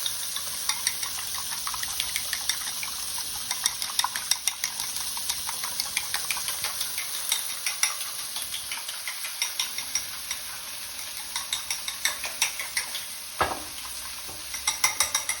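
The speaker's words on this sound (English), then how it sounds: "Take my Chinese whisk, which is a pair of chopsticks." Eggs whisked briskly with a pair of chopsticks in a bowl for vegetable egg foo yung: a steady run of quick, light clicking taps close up, with no talking.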